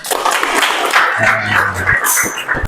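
A classroom of students applauding at a polytechnic teaching session, with a brief burst of clapping mixed with murmuring voices and a few louder knocks near the end.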